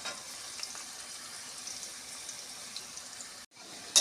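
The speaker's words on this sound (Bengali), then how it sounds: "আমি একটু হলুদ দিয়ে আলুটা ভাজছি।" Potato pieces frying with turmeric in hot oil, a steady soft hiss of sizzling that holds evenly, then drops out briefly near the end before a small clatter.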